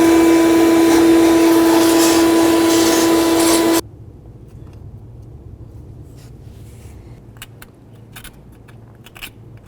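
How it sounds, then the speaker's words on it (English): A shop vacuum drones loudly with a steady whine while clearing debris off the driver-side valve cover of a 2007-2017 Ford Expedition, then cuts off abruptly, leaving quiet room noise and faint scattered clicks. "Let's go ahead and vacuum this off."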